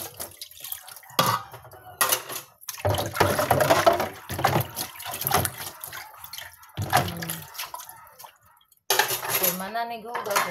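Plates and dishes washed by hand with soap and a scrubber clatter in bursts, with dishes and cutlery knocking, water splashing and brief pauses between. A person speaks intermittently over the clinking.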